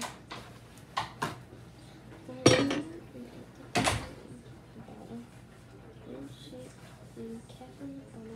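Utensil stirring a pot in a home kitchen: a few clinks and scrapes, two louder metallic knocks around the middle, then quieter intermittent scraping, with people talking faintly in the background.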